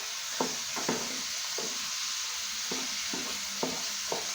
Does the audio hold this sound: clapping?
no